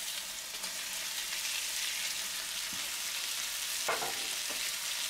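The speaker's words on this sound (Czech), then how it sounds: "Po chvilce přidám 50 gramů cibule a 100 gramů paprik." Onion and green and yellow bell peppers frying with pork belly in a hot pan, a steady broad sizzle throughout with a few soft scrapes and clicks of stirring near the end, no talking.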